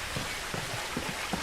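A waterfall in the video game What Remains of Edith Finch gives a steady, rushing wash of falling water that fills the short stretch evenly, with no voices.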